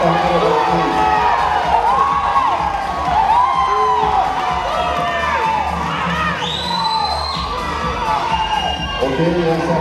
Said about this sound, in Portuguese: Uma salva de palmas para a rapaziada da equipe.